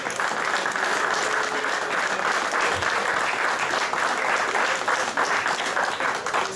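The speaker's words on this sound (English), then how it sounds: "Let's give a round of applause to Bill El Wingador Simmons" Sustained audience applause at a press conference, a dense, even patter of clapping that holds steady for several seconds without speech over it.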